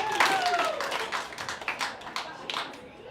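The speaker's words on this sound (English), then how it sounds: "clap your hands." A comedy showcase crowd in Bend claps its hands in a brief burst of scattered, uneven claps that thins out and fades over a few seconds, with a voice briefly heard at the start.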